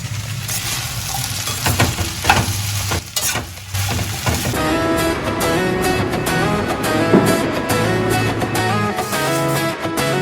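Crispy okra (bendakaya) fries in a pan at a function while being stirred, a loud continuous sizzle broken by scraping, clattering strokes of the spatula against the metal, with no talking.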